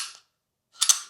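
Two short metallic clacks from an empty SIG P365 pistol being handled, a crisp mechanical snap, a brief silence, then a brighter double click, close and fairly loud with no talk.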